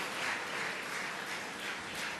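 An audience at a Tamil debate event in Katpadi, Vellore, applauding to welcome a speaker: a dense, steady wash of many hands clapping, sustained evenly and fairly distant throughout.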